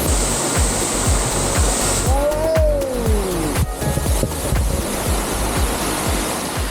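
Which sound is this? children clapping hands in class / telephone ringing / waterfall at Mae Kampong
waterfall at Mae Kampong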